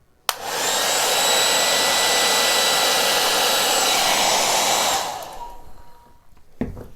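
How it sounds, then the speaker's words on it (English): A hair dryer blows steadily over acrylic pour paint on a large wood round, a loud continuous rushing whoosh that cuts off after about five seconds, leaving quiet room noise and a faint knock. "I'm gonna try and blow it with the hair dryer"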